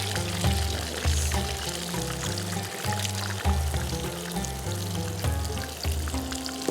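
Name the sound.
prawn tempura frying in oil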